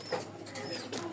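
Pigeons at a small pigeon farm coo faintly in a few soft murmuring calls against a steady background hiss, distant and low in level.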